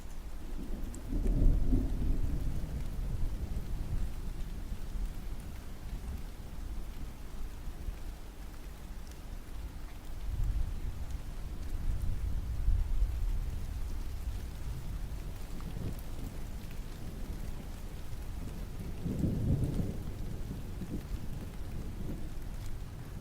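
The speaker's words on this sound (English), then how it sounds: "Still got the thunder rolling in." Deep, rolling thunder rumbles in several long swells over steady rainfall, soft and distant rather than sharp, with no speech.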